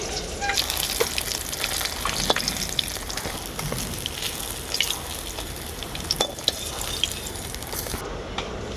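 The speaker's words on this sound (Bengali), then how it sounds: "মাছগুলো কিন্তু খুব ভালোভাবে ভাজা হয়ে গেছে" Rohu fish sizzle in hot oil in a home kitchen while a thin rohu curry with ridge gourd and potato is being prepared. A continuous close sizzle with scattered pops and crackles runs throughout, and no one speaks.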